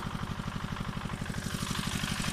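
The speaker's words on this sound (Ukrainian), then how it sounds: "Косим трактором, мототрактором зубрик" 8-horsepower Zubr walk-behind motor tractor pulling a horse-drawn mower across a field, its small engine chugging in a fast, even, near and loud rhythm with a rising whine toward the end.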